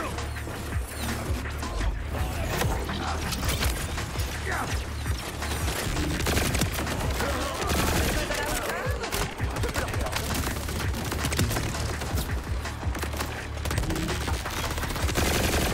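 Turret fire in the Borderlands 4 video game, a dense, continuous clatter of rapid shots and mechanical crashes that stays loud and busy throughout, with faint voices mixed in.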